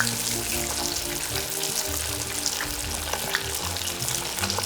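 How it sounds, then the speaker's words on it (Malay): Chicken, tempeh and tofu coated in flour batter deep-fry in hot oil, giving a steady, close sizzling crackle with bubbling that runs continuously without voices. "Sekarang bolehlah goreng ayam, tempe dan tahu."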